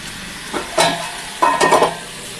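Khichuri with tomato sauce is stirred in a pan, two short bursts of scraping and sizzling close up against a quiet background.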